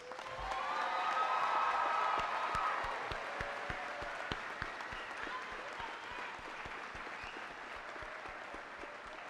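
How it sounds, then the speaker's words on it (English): Large crowd at the East High School 2018 graduation ceremony breaks into thundering applause and cheers for the graduating class, swelling early, then settling into steady clapping with sharp individual claps standing out. "let's begin by giving the graduating class of 2018 a thundering round of applause"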